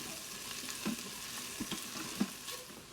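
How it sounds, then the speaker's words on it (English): Minced garlic frying in a pan, a soft continuous sizzle with a few distinct stirring scrapes and clicks of the utensil, close and fairly quiet, no one talking. "Quite a bit of minced garlic. And we're just going to stir that, let it cook for like 30 seconds or so."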